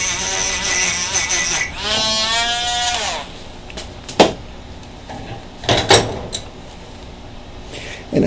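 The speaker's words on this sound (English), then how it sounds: "we're going to take our little Dremel tool here" A small Dremel rotary tool whines loudly for a few seconds grinding metal, rising and warbling in pitch, followed by scattered clicks and knocks of handling.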